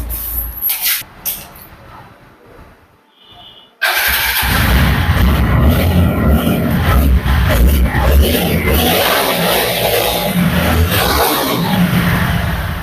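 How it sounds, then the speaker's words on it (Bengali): A TVS Apache 4V motorcycle, black, fires up after a few quiet seconds of handling noise and then settles into a loud, steady, close idle rumble that continues to the end with no speech. "এখন দেখাবো হচ্ছে বাইকের সাউন্ড কোয়ালিটি"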